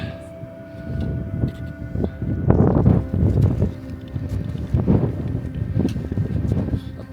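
Wind blows across a misty mountain pasture in the Slovenian Alps, a low, rumbling rush with gusts that swell and ease, buffeting the microphone for several seconds.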